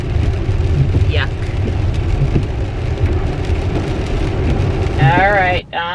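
Rain falls steadily on a car while it is stopped at a store, a dense, even patter close around the cabin with a low rumble beneath and a brief squeaky sweep near the end.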